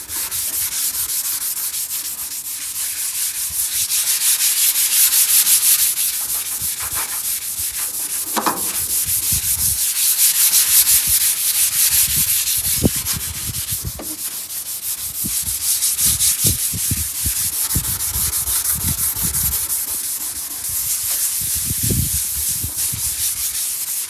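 Close, continuous scratchy rubbing as a seized Ford FE 360 V8 engine from a 1968 Ford F250 is scuffed by hand, with repeated strokes in an uneven rhythm and occasional low knocks, with no talking.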